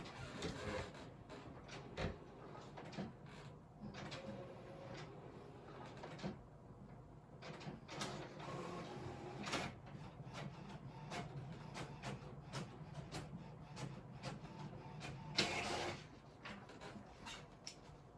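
An HP Color LaserJet printer runs a test page, with a low mechanical whir broken by frequent clicks, clunks and short sliding rattles, all faint and close, and no talking.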